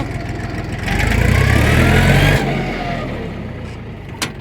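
Kentavr 244SX Chinese mini tractor engaging reverse gear and moving off, the engine swelling to a loud, close rumble before easing to a steadier run, with a brief click near the end.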